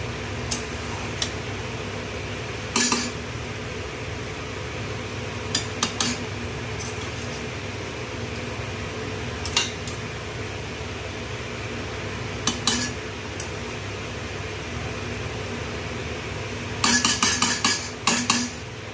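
A spoon stirs chicken pulao with fried onions in a metal pot, giving scattered scraping clinks across a quiet kitchen background and a quick cluster of sharp metallic clatter near the end.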